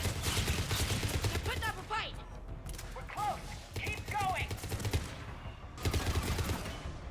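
Rapid rifle gunfire in Mass Effect 3 rattles in dense, continuous bursts with brief pauses, loud and close, with a voice talking over the shooting at times.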